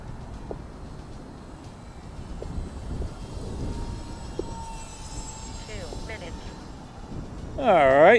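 An H-King J3 Navy Cub RC model airplane, a lightly loaded Piper Cub replica, drones overhead with a thin whining engine tone that grows louder near the end, while a person talks.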